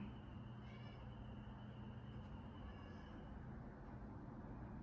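A house cat meows faintly a couple of times in a quiet room, small and distant over a steady low hum, with no talking.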